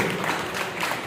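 Applause from an audience honoring an award-winning RTC bus driver from the Hyderabad 2 depot, a short, dense, even wash of many hands clapping with no break.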